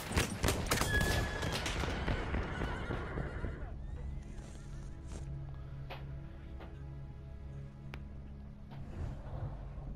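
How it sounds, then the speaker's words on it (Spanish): A horse in a combat video game whinnies loudly with hoof clatter at the start, then settles into quieter galloping hoofbeats and distant gunfire bursts, with occasional sharp clicks over a low ambient bed. "¡Galopa, caballo!"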